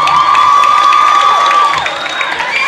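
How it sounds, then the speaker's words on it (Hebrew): An audience bursts into loud, sustained applause and cheering for a performer on a stage show, with whoops and a steady roar of clapping from a large crowd throughout. "תנו לה המון המון כפיים."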